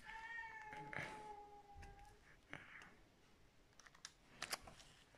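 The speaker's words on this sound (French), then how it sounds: "le chat va se remettre à faire à miauler" A cat meows indoors, a rising wavering cry near the start followed by a couple of shorter calls, mixed with scattered light clicks and taps like keyboard typing.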